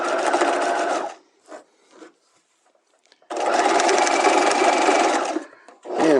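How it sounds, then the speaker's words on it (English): A sewing machine runs a regular construction stitch in two bursts of fast, steady, close whirring, separated by a pause with faint handling noises, then a brief restart at the end. "So my regular construction stitch right now."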